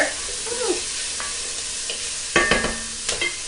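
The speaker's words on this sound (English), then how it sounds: "let's stir it up here" A spoon stirring a pot of Moroccan lentil soup nearby, with scraping and a few sharp knocks against the pot over a low simmering background.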